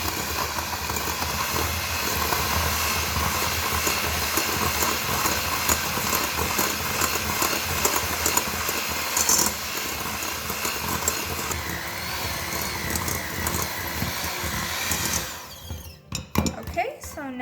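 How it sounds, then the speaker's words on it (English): An electric hand mixer whirs through banana bread batter with a loud, steady motorized buzz and rattle for about fifteen seconds before it shuts off, and a voice speaks briefly over it. "now with my mixer, I'm going to mix all of this together"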